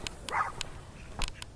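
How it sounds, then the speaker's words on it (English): Dogs nearby let out a few short, sharp barks and yips, spaced irregularly over a quiet background. "these dogs are here like barking"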